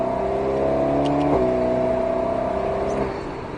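An Alpine A110 S accelerates hard at full throttle on the Lohéac circuit, its engine note rising steadily in a loud, close, continuous roar, with a brief dip at a gear change before climbing again.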